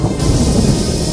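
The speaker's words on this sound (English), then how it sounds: "A bolt of lightning struck Mooli" Loud, close thunder crashes and rumbles from a lightning bolt striking in an animated story, a dense roar filling the short moment with no voices.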